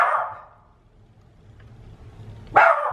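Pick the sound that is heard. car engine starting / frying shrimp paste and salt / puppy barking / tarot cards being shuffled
puppy barking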